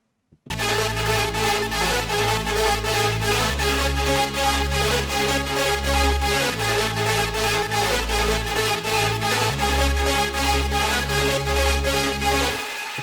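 Hypertrance track with all its melodic parts layered: dense, bright synth chords and leads over a steady pounding beat and a deep bass that shifts pitch every few seconds, loud and continuous without talk.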